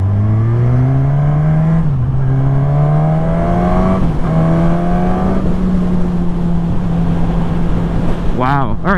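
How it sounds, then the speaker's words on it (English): A 2020 Suzuki Katana inline four-cylinder motorcycle engine revs loudly and close, holding a high steady tone that dips and climbs again, ending with a sharp rev burst. "that beautiful high-pitch inline 4-cylinder"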